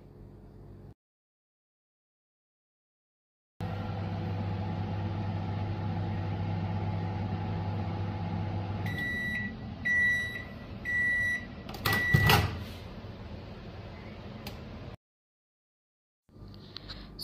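Microwave oven running with Vaseline inside to melt it for homemade beetroot lip balm. A steady hum runs for several seconds, then clicks and a series of repeated beeps sound before it stops.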